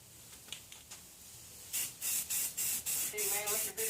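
2-in-1 filler primer is sprayed onto the body of a 2008 Honda Accord EX-L V6 under repair, in a run of short, close hissing bursts after a few faint clicks.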